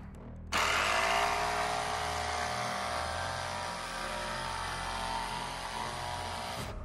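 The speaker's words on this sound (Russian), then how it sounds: "Ну, пилим, целимся по вот этой вот рамочке и по пилке самой." A Milwaukee cordless jigsaw with pendulum action switched off cuts steadily after a brief quiet start, a loud close buzzing whine that holds for several seconds with no speech.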